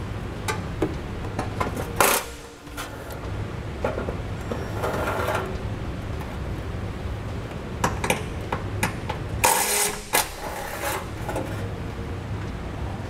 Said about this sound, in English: We'll need a 10mm socket for those. Just get them pulled out.